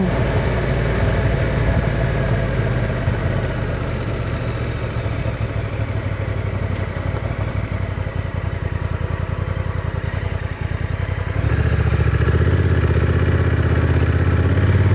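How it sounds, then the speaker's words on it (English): A Honda NT1100 DCT motorcycle engine braking while riding, a steady low engine drone with wind rush that shifts deeper and louder near the end, heard close with no talk. "down for a bit of engine braking"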